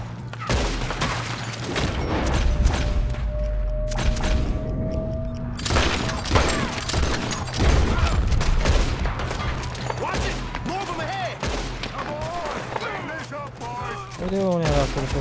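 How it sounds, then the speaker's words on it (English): Red Dead Redemption 2 shootout: a dense, continuous fusillade of rifle and pistol shots with booming thuds, loud and near throughout, while voices talk over the din. "Good shooting, kid."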